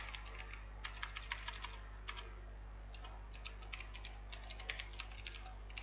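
Quick, irregular bursts of key clicks as a command is typed on a computer keyboard in a Linux terminal, close and fairly soft over a steady low hum.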